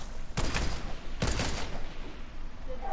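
Two sharp gunshot cracks in Fortnite, spaced under a second apart and fairly quiet, over a steady low game background with faint sounds later on.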